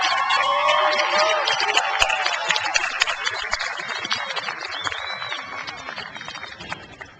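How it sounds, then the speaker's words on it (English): Applause breaks out from the audience at a college graduation ceremony, a dense wash of clapping that starts full and slowly thins out over several seconds, with some voices mixed in. "Please give her a round of applause."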